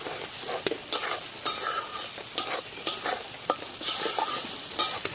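Spice paste being stir-fried for a spicy desi chicken curry, a spatula scraping and stirring in a steady rhythm over a continuous sizzle, close and fairly loud, with no talking.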